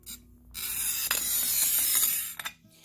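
A glass cutter scrapes across textured glass in a gritty, raspy score lasting a couple of seconds, with small clicks where it skips over bumps.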